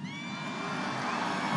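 A large crowd at a US presidential rally in Iowa cheers and whoops, a dense roar of many voices holding steady and swelling slightly toward the end.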